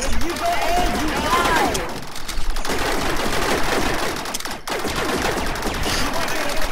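Gunfire in a Star Wars battle in Rec Room: continuous rapid blaster shooting with overlapping bursts, loud and close, while players talk.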